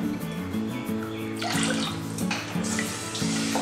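Water pours into a pressure cooker for ghee rice made with basmati, a close burbling gush with pulsing splashes over a few seconds, no talk.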